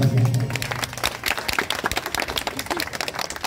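A wedding audience claps loudly for the bride, producing a dense, steady patter of many hands that runs for several seconds with no talk over it.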